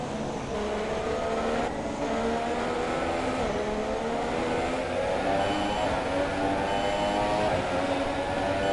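The engine of a Sauber Formula 1 car in the racing game F1 2017 holds a continuous high-pitched whine at speed, with gear-linked pitch sweeps rising and falling over a steady roar.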